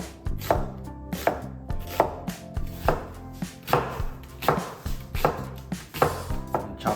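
A knife chops vegetables on a cutting board in a steady rhythm of about a dozen crisp, close strikes, each spaced roughly half a second apart, while preparing Chinese beef meatball soup.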